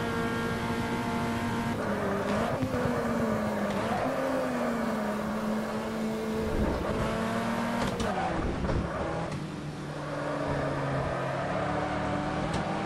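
A 160 hp 2.0 AP-engined Gol Quadrado race car, weighing about 900 kg, drones steadily in the Automobilista racing game at Curitiba, its engine note rising and falling through gear changes, loud and continuous with faint speech underneath.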